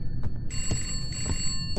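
A telephone in the horror game Contemp sounds a bright, sustained bell ring over a low rumbling background, with a few soft thumps scattered through it.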